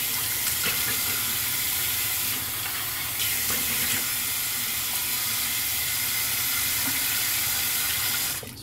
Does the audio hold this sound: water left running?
yes